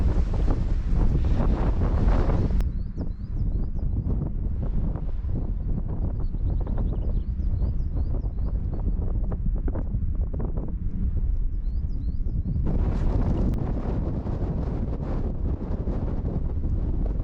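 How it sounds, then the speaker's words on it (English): Strong gusts roar across the microphone on an exposed hill walk in the Goyt Valley, Peak District. The buffeting is loud and continuous, easing slightly in the middle before surging back. "I think if anything the wind's got a bit stronger."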